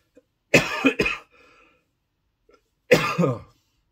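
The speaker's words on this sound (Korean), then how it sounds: "시원하게 창문을 열었더니 기침이 나온 것 같습니다" Two quick, harsh coughs close to the mic, a short pause, then one more cough; no talking.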